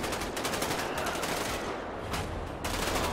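Bursts of automatic gunfire crackle in the GTA 5 video game, rapid repeated shots in clusters over a noisy background, fairly loud and without clear speech.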